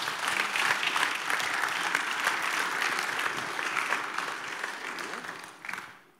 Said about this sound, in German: Und das ist nochmal euer Applaus.